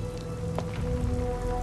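Rain falling in the video game Uncharted 3 Remastered, a steady hiss of drops pattering on surfaces, moderately quiet and continuous over low background hum, with no speech.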